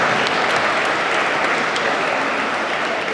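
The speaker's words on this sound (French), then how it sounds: "Alors une bonne main d'applaudissements ici" An audience at a recognition gala in Lanoraie applauds the musicians, a thick, even wash of clapping that holds at full strength throughout.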